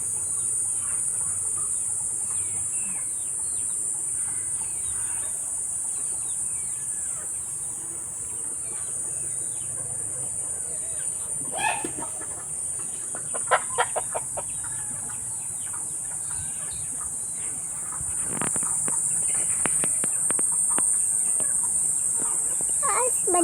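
Chickens and ducks feed on cabbage scraps outdoors, with soft clucks and a few short bursts of pecking and calls over a constant high insect drone, while faint voices talk in the background.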